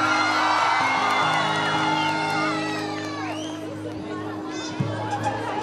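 Outdoor crowd at a Himachal village fair for the Bhuru Nag Devta deity, cheering, whooping and clapping loudly at first, then fading into general chatter with a few shouts.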